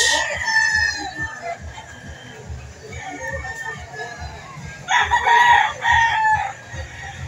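McLean hatch stag rooster at a weekend chicken market in Lipa, Batangas, crowing and clucking close by, with someone talking and market murmur around it.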